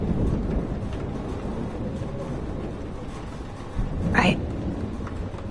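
A thunderstorm in the video game Life is Strange, with steady rain and a low rolling rumble throughout and a sharper crack of thunder near the end, all heard without speech.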